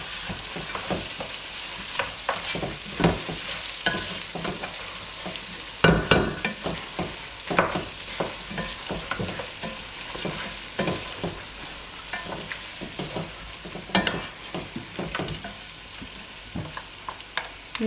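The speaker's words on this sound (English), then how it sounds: "Then give it a good mix." Food frying in a pan and stirred before rice goes in, with continuous sizzling broken by repeated scraping and clattering of a utensil against the pan at an uneven rhythm.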